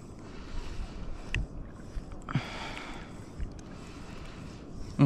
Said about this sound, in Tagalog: May hangin guys.